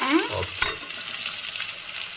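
Onions sizzle in hot oil with crushed garlic and curry leaves for a raw banana curry as a utensil scrapes and stirs the pan, a brief clatter near the start, then steady frying hiss.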